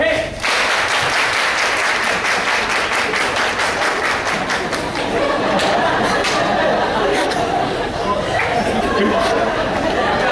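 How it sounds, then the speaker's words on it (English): At a rhythm workshop an audience claps along, giving dense, repeated hand claps with a roughly steady beat, loud and close, with crowd chatter throughout. "Everybody clap your hands."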